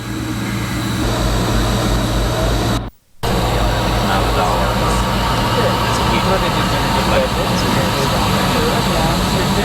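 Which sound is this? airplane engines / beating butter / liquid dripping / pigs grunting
airplane engines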